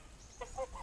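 Two Pomeranian geese on a farm give a few short, faint honks, three quick nasal calls in under a second against quiet background noise.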